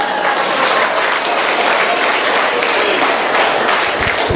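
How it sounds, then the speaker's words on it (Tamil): Dense, loud applause from a large audience at a stage event, continuous clapping filling the whole stretch without pause. "பெரிய கைத்தட்டல் கொடுக்கல"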